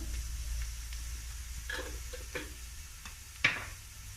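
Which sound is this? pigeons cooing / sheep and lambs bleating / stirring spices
stirring spices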